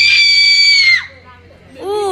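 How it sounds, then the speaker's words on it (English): A person screams loudly and sustained into a scream meter at Disneyland Paris, a piercing cry that cuts off after about a second, followed by a brief lull and a rising shout-like vocal sound. "You stand in it, and you scream,"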